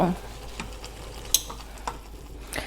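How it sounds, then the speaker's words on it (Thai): Water comes to a boil in a pot for Thai boat noodles, giving a soft, steady bubbling hiss with a few small clicks and knocks on top. It stays fairly quiet throughout. "ห็นไหมเดือดแล้ว เดือดแล้ว"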